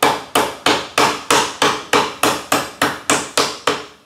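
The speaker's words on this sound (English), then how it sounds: "I'm going to hammer it down roughly into about the shape of a hockey." A hammer pounds a small lump of wet clay down on a pottery wheel, about a dozen loud, evenly spaced thuds in a steady rhythm, close up and with no talk.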